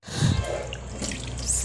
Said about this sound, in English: It's time to wash the fruit.